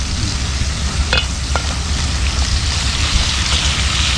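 Crab curry bubbles and sizzles steadily in a pot, a constant close-up simmering hiss broken by a couple of brief clinks.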